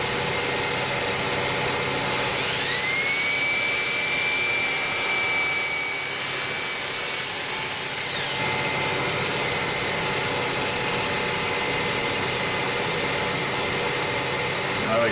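A wood and Alumilite pepper mill spins on a lathe at about 2,000 RPM, giving a steady loud whine with a rising tone that holds for several seconds, then settles into a continuous running hum.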